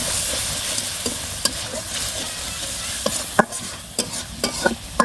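Spices sizzle and are stirred in oil in a pan for a tomato and Malabar spinach stem curry, a steady frying hiss broken by sharp scraping spoon strokes near the end, with no talk.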